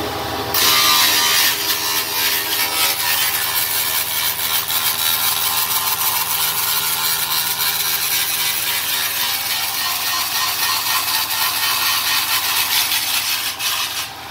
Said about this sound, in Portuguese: Vou ligar o motor aqui.